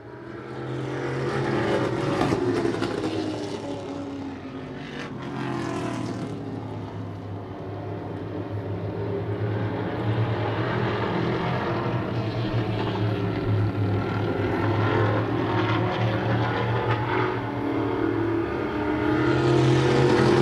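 Race cars at the WGVR Expo circle the track in a constant engine drone, swelling and easing as the pack passes, moderately distant with no talk over it.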